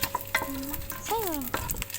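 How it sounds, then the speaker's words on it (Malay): Garlic stir-fries in a pan for prawn noodles, a steady sizzle broken by scraping strokes of the spatula, with brief voice-like tones in the middle. "Kemudian tumis bawang putih"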